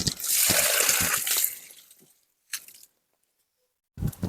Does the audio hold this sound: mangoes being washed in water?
yes